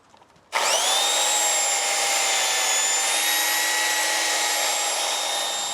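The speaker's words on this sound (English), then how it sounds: "I'm going to smooth it off here with the 8-inch with the soft pad." An 8-inch sander with a soft pad starts up abruptly and runs with a continuous high whine while smoothing the curved topsides of a boat hull, close and steady throughout.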